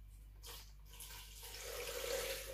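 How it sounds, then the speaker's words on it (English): Clean drinking water pours into a blender jar in a steady, close splashing stream that grows fuller and louder as it runs. "add in clean drinkable water into my blender before giving this a good blend"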